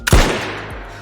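A single loud rifle shot fired while hunting an animal in the survival video game DayZ, a sharp close crack followed by a brief decaying tail, with no talk.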